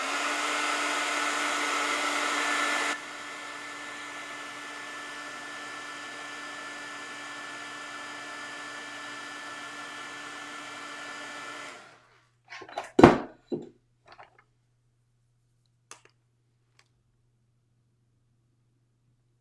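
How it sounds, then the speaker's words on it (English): A heat gun blows loudly and steadily while drying pigment ink in a journal, a harsh whooshing roar that drops in level partway through, then cuts off, followed by a few close clatters and taps. "I'm actually going to use my heat gun, and I'm sorry this is going to be loud"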